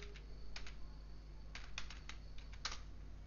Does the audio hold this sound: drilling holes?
no